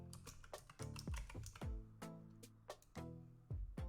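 Rapid keystrokes on a computer keyboard as a password is typed, a quick run of close, crisp clicks with short pauses between bursts, heard alone with no voices.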